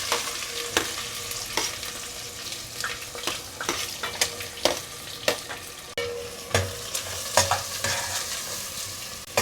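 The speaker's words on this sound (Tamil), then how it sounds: "வெங்காயம் நல்லா அப்படியே கோல்டன் ப்ரௌன் கலரில் வர வரைக்கும் வதக்கணும்." Onions for biryani sauté in a hot pan as a spoon stirs them. Repeated scraping strokes sound over a continuous sizzle, close and unhurried, with no speech.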